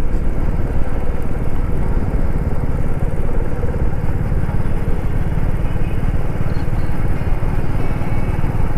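A motorcycle engine rumbles steadily and loudly while riding near a suspension bridge in Himachal, a continuous low throbbing drone with wind rush and no pauses.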